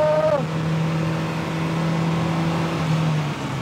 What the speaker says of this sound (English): It has developed, a very audible hum inside the exhaust.